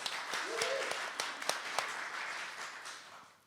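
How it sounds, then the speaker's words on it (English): A small audience at a talk gives a faint, brief round of applause, scattered claps thinning out over a few seconds. "Please may I have a round of applause for Qarnita."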